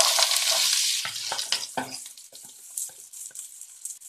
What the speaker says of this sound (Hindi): ऑयल हमारा गर्म हो गया है, यहाँ पे हम राई और जीरे को डाल देंगे, प्याज को भी हम डालेंगे